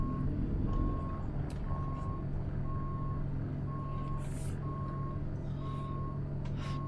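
Truck reversing alarm beeping in a steady evenly spaced series over a constant diesel engine rumble while the rig backs in near a skid steer, with occasional faint clanks.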